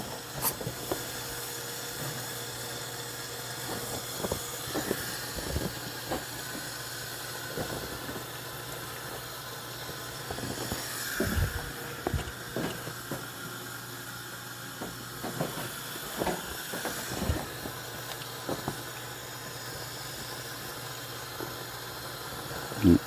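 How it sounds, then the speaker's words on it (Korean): Water at a rolling boil hisses steadily in a pot, with a broadband rushing tone and scattered faint bubbling pops, close by and continuous. "또 물이 끓었습니다. 바로 넣겠습니다."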